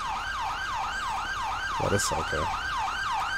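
Wailing ambulance siren from the GTA 5 video game, sweeping up and down in a steady repeating yelp, loud and close, with a brief voice speaking over it partway through.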